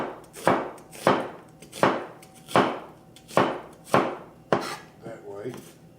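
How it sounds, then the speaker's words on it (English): A knife chops through an onion on a cutting board in a home kitchen, eight crisp, evenly spaced strokes about every half second, each a sharp close knock of blade on board with no talking. "take this onion, stand it up on its axis and cut it in half"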